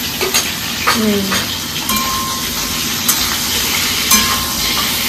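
Vegetables fry in a pan on a gas stove, a moderate sizzle with utensil scrapes and clinks, nearby and fairly loud, with no talk.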